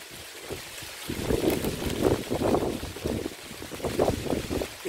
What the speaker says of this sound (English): You can hear it is a little bit windy today.